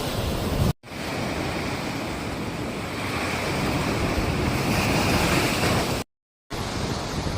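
Surf breaking on a deserted French Polynesia beach, a steady broadband roar of waves with gusting wind across the microphone, loud and continuous apart from two brief dropouts.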